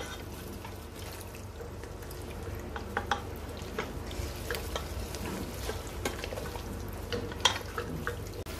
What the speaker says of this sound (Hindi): ये जो वाइट कौरमे का गोश्त है वो भुन रहा है